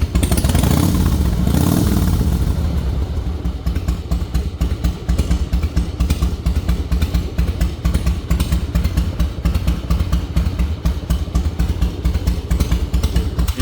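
A loud Harley-Davidson Fat Boy 100th Anniversary motorcycle engine revs up hard, then settles into a deep, rapid, rumbling idle with steady throbbing pulses, close by and continuous.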